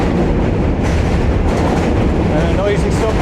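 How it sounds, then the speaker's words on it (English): A subway train crosses the Manhattan Bridge between Brooklyn and Manhattan, a loud, close, continuous rumble with rattling wheel clatter that covers the whole moment. "and a noisy subway train right behind us"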